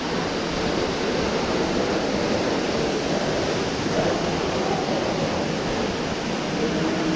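Steady, dense rush of falling water from a waterfall inside the indoor rainforest at Randers Regnskov, loud and continuous throughout with no break and no voices.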